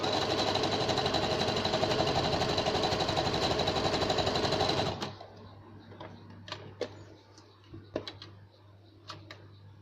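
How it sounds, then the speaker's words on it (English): A sewing machine stitching fabric pieces together runs steadily and loudly for about five seconds, then stops, leaving a low hum and a few scattered clicks and handling sounds. "I might just stitch that piece on there"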